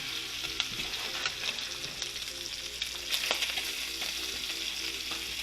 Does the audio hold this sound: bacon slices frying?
yes